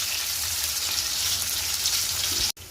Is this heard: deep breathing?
no